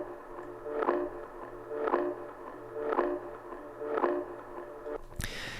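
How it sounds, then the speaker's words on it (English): Big Fish Audio Alien Guitars sample: a murky, processed guitar swell repeats four times at an even, roughly one-second pulse over a low drone, ending in a sharp bright burst. "Next thing I have here is from the Big Fish Audio Alien Guitars sample pack"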